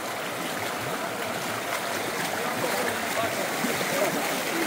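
Cold stream water flows along a path near Umbrella Waterfall outside Rawalpindi, a steady broad rush with light splashing throughout.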